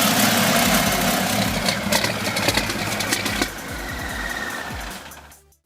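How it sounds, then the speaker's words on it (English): The gasoline engine of a 1932 hot rod of about 300 horsepower runs loud and close with a rough, throbbing rumble, steady for several seconds before easing off and cutting out. "The car is equipped with a gasoline engine with a capacity of about 300 horsepower"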